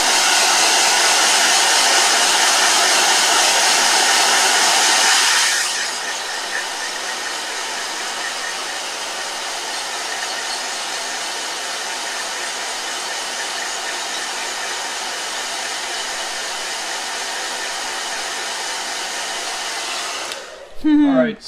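A blow dryer runs continuously for about twenty seconds while watercolor paint is dried. The whoosh is loud at first, then a little softer and steady, and ends with a brief shift as it clicks off.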